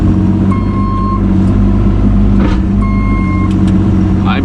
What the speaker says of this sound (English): I may be unplugging that beeper.